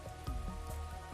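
Heavy rain for an audio drama patters densely and continuously, with soft thuds of drops over a low steady hum.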